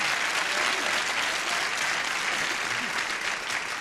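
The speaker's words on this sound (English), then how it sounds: "Applause." Steady, dense applause from a game show studio audience fills the whole stretch, loud and continuous with no break, a little cheering mixed into the clapping.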